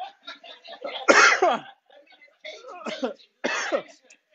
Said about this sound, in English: when you cough like that, that means you are doing the real Cajun thing